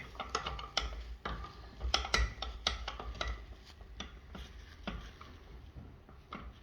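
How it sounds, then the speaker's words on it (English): A spanner tightens the bolts on a Zenith chiropractic table's lumbar and thoracic section, giving faint, close metallic ratcheting clicks in an uneven series with no voices. "Now with our spanner, we're going to come in there and we're going to just tighten them up."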